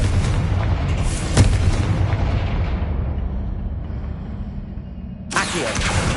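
Fiery Confringo spell blast from Hogwarts Legacy, a loud booming burst with a sharp crack early on, rumbling low energy throughout and a second burst near the end, with no voices.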